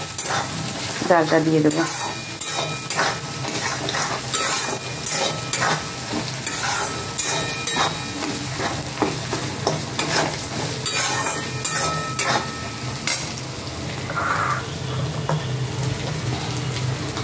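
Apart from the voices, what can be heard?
stirring garam masala in a frying pan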